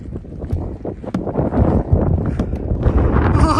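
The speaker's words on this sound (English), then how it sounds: "It's windy and dark." Strong gusting wind on a mountain trail along the Continental Divide buffets the microphone in heavy, rumbling blasts, roaring continuously throughout.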